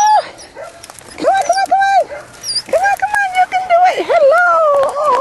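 Belgian Malinois puppies whimper, yip and bark in high, wavering cries close by, coming in a busy run of overlapping calls while a person talks to them.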